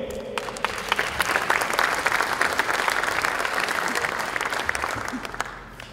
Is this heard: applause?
yes